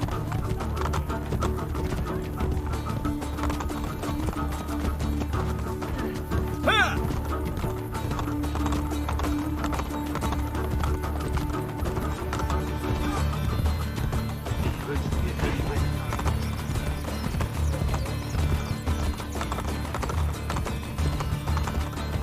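Horse hooves clip-clop steadily in Assassin's Creed Brotherhood, with a brief neigh partway through, all under a constant game soundtrack and someone talking in German over the top.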